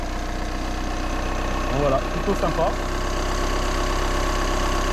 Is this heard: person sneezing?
no